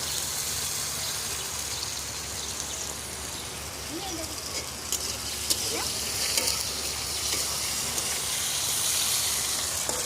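Green chillies dropped into hot oil with tomato for a Bengali rohu fish curry: a steady, fairly quiet frying sizzle throughout with faint stirring, and a voice talking over it.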